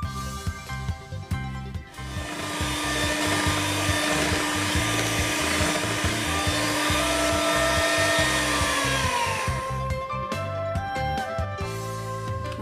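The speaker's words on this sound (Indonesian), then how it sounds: "Masukkan SP, mixer kembali hingga ngembang dan kaku." An electric mixer whips Oreo ice cream batter with SP emulsifier, giving a loud, steady motor whine that holds for about ten seconds and then winds down, over background music.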